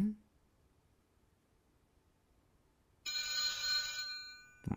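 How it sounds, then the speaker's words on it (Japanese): A telephone rings inside a video game, a bright burst of bell-like tone breaking in after several seconds of near silence and continuing to the end, with a short voice at the start and finish. "電話だ。"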